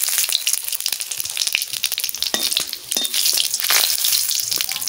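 Spices sizzle and crackle steadily in hot mustard oil with cumin seeds and a bay leaf, a close, continuous frying hiss with small pops throughout.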